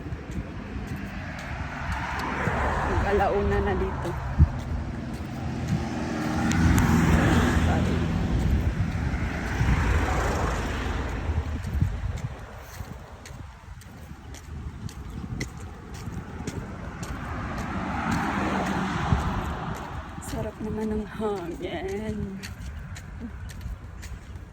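Cars pass one after another along an empty, windy road in Bahrain, each a broad rising and fading whoosh amid steady wind noise, with someone talking over them at times.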